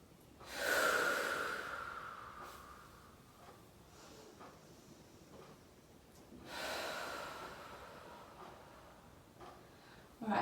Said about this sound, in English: Take a few big breaths here.